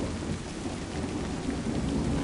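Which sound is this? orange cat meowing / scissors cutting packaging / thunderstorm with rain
thunderstorm with rain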